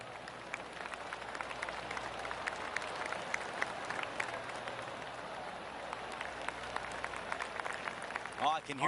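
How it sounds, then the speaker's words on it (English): Scattered golf clapping from galleries around the course in the PGA Tour 2K25 video game: soft, continuous patter of polite applause at a moderate distance, steady for several seconds with speech faintly underneath. "I can hear the golf claps around the course"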